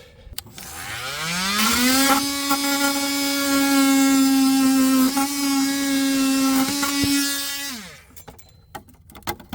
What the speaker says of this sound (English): The worst part about cutting ABS with an oscillating tool is that it likes to melt on itself as you're going through.